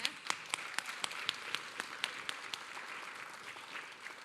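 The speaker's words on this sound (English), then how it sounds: "Yes, you can clap for that" Scattered audience applause at a community gathering, with a few distinct claps standing out rhythmically over a soft, faint wash of clapping.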